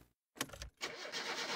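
A car in the video game My Summer Car, fitted with a new carburetor and turbo, cranks briefly and then fires into a loud, steady running engine roar after a short pause.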